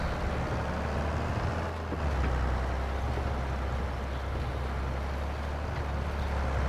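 A tractor pulls a wide wheat seeder across a field in Farming Simulator 22, giving a steady low engine drone with wind-like noise, constant and unbroken.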